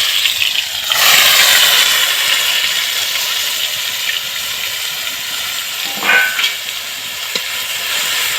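A spice paste hits hot oil seasoned with cumin, setting off a loud, steady sizzle close by that swells briefly near the start and again midway.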